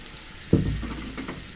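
Salt and turmeric drop onto garlic paste frying in a pan for egg korma, setting off a sudden loud burst of sizzling that settles into a softer hiss.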